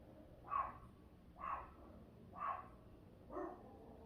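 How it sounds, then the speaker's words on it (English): A Chihuahua barks next door, four evenly spaced, fairly faint yaps about a second apart, heard at a distance with no one talking. "My neighbor has a Chihuahua and she always has some, I don't know, some reason to bark all the time."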